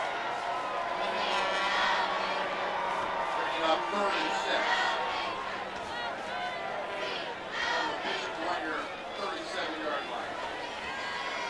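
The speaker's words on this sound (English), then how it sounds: "the crowd goes wild" Crowd at a high school football game between Concordia and Bishop Dwenger, cheering and chattering loudly and steadily throughout, with a broad roar of many voices from the stands.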